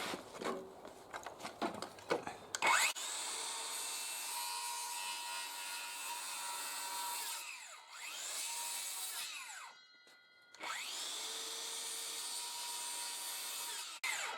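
A power saw cuts into timber roof rafters on a structural steel framed roof, loud sustained whining bursts with pitch sweeps as the blade bites, after a few knocks and handling sounds, with a short pause mid-cut.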